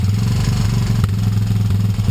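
Honda TRX250 ATV engine turning over after six months sitting, a loud close chugging mechanical rattle with a fast steady pulse throughout.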